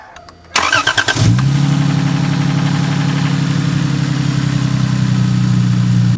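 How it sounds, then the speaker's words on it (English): A car engine cranks briefly and catches, then settles into a loud, steady, close idle that runs without a break, and no one talks. "just simply put your cap back on and start up your engine"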